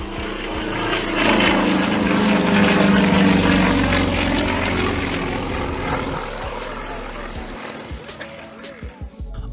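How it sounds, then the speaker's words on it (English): A Yak-50 single-seat, low-wing Russian propeller aerobatic plane roars overhead at the Canadian International Airshow in Toronto, its loud engine drone building, peaking, and fading with shifting pitch as it passes, with crowd and voices underneath. "my personal favorite was the Yak-50, a single-seat, low-wing plane manufactured in Russia."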